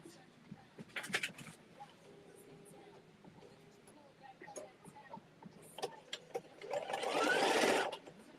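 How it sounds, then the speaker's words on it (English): A sewing machine stitches fabric pieces together in short whirring bursts with pauses between them, quiet and close, ending in a longer, louder run of stitching. "we're just gonna sew these together and then press the seam allowances open"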